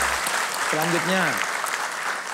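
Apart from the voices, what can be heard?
studio audience applause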